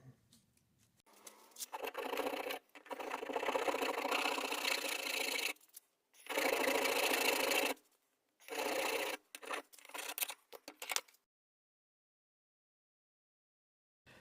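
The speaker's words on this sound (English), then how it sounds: "I think I'll have a go with the bastard file" A bastard file rasps back and forth on a metal motion bracket for a model steam locomotive, close raspy strokes in several bursts with short pauses between them, then silence.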